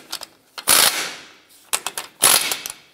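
A hand ratchet snugs a nut on the front lower control arm of a 1996-2002 Toyota 4Runner, with two bursts of loud, rapid clicking separated by short pauses and a few lighter clicks.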